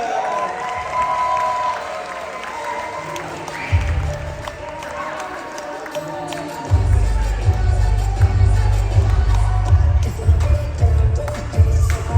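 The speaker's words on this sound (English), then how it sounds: "Ladies and gentlemen, round of applause for Christina and Sophia." Wedding guests clap and cheer as a crowd, with a loud low hum or music entering partway through and voices mixed in throughout.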